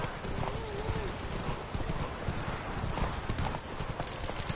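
Roach, Geralt's horse in The Witcher 3 on PS4, gallops in steady rapid hoofbeats across the ground, with a brief whinny early on and game ambience and a voice beneath.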